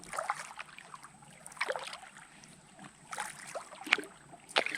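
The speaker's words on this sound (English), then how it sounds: "We'll paddle around back here a little bit" A kayak paddle dips and pulls through calm water on Prettyboy Reservoir, with soft splashes and trickles coming in irregular strokes, close but faint, and no voices.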